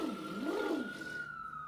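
Faint city sirens wail in the distance, one tone rising and falling while another holds a steady pitch, heard alone without talk.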